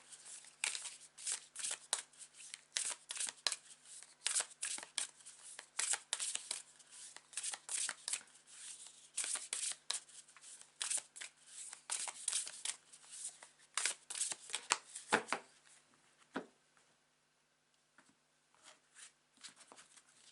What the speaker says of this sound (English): now's the time to take a couple of deep breaths whilst I shuffle it